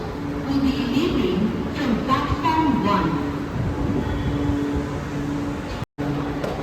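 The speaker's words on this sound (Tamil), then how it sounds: "வீட்டுக்கு போகிறதுக்கு மெட்ரோ வந்தாச்சு" A metro train rumbles and hums steadily nearby with faint squeals and station bustle, voices murmuring underneath.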